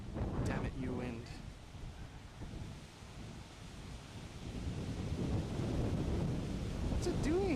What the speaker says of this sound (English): Damn it, you wind.